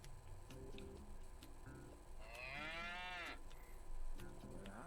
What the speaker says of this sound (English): Bororo cattle. Nearly scared my boots off.